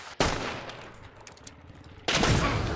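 Game gunfire from an online shooter rings out in two loud bursts, one at the start and another near the end, with quieter scattered shots and rumble between them.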